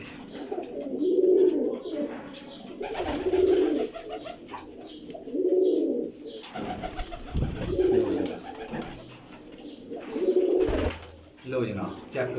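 Pigeons cooing close by in repeated rounded bursts roughly every two to three seconds, with a voice talking intermittently between and over the calls.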